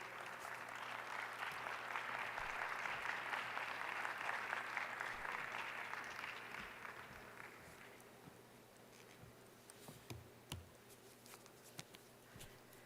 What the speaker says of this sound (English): So please give her a round of applause, the Deputy Director General of FAO, Madame Maria Helena Semedo.